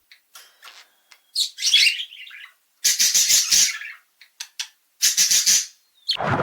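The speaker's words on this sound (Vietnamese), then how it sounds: "Parrot." A parrot calls in a run of sharp chirps, squawks and whistles, loud and close, with short gaps between the bursts and no talking.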